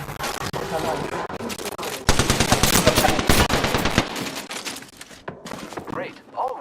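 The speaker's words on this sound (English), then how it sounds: "The enemies are shooting at me." Enemy gunfire in Apex Legends, with a dense burst of rapid automatic shots hammering loudly in the middle amid scattered earlier and later shots, while a player talks over parts of it.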